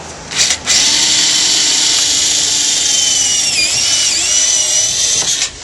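Close, loud power drill runs continuously, its pitch dipping slightly as it bores a pilot hole for a panel on a C6 Corvette, after a brief initial burst.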